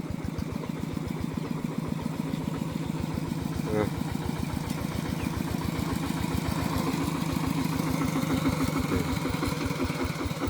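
A farm tractor engine idles and chugs steadily nearby on a trip to buy rice-paddy fertilizer, its rapid regular knocking pulse constant throughout with a slight rise in loudness toward the end.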